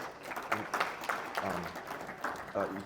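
An audience at a convention talk claps in a steady patter of applause, moderately loud, with a voice faintly audible underneath.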